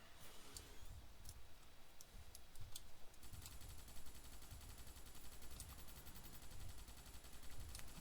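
Rapid bursts of gunfire at a bug in the Starship Troopers video game, crackling repeatedly in uneven clusters over a steady low rumble.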